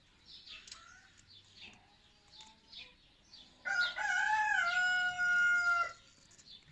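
A rooster crows once loudly and close, a long drawn-out call standing out after quieter scattered bird chirps and soft clucking from a backyard flock of chickens whose wings have been clipped.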